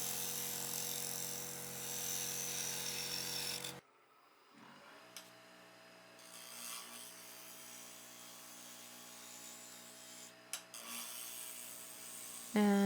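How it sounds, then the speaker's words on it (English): A wood lathe spins as a turning tool shear-scrapes a bowl, first a loud steady whirring hum, then a sudden drop to a quieter, lower drone with a few brief scraping touches and a sharp burst at the end. "continuing with some shear scraping to try to finalize the shape of the bowl"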